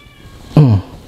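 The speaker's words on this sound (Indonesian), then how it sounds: "Ada kucing, tunggu bentar." A single short cat meow, loud and close, rising then falling over about a quarter second against a quiet indoor background.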